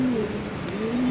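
A black feather-footed pigeon cooing nearby, two rising and falling low coos in quick succession, clear and fairly loud with no speech over them.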